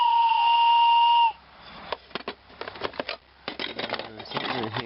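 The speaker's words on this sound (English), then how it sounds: "Train whistle." A small toy train whistle, probably a thrift store find, blown once in a sustained, steady, shrill tone lasting about a second, followed by rustling and handling noises as a person talks.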